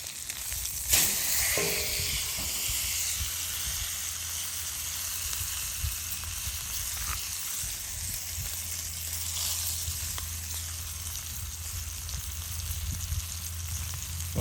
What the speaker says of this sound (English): What I was trying to do with this cast iron skillet and the butter is like sear it